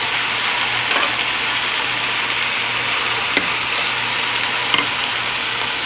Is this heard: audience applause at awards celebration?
no